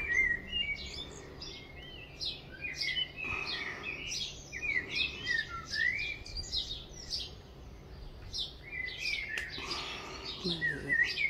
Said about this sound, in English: There's a blackbird through there. I think it's blackbird.